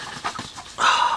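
A dog pants rapidly close by beside a chicken coop, a run of quick breathy huffs that grows louder and rougher toward the end of the short burst.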